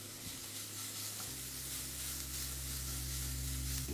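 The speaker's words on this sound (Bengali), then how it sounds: "গাজরটাকে 2 থেকে 3 মিনিট একটু ভালো করে আপনাদের এইভাবে মিশিয়ে নিতে হবে" Grated carrot stirred in a hot pan for a few minutes to drive off moisture gives a quiet, even sizzle with a steady low hum underneath, and no one speaks.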